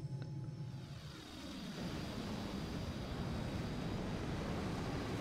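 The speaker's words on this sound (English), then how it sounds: "Okay, burners are lit." Panavia Tornado jet engines with afterburners lit in a flight simulator, a steady loud roar that swells and holds broadband and constant throughout, with no talk.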